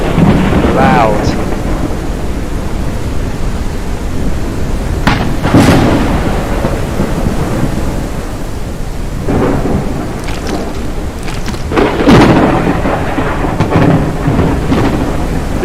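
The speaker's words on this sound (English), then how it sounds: "loads of loud thunder." Loud thunderstorm in the video game Forever Skies, with steady heavy rain and several deep rolling thunder cracks spread across the scene, close and booming.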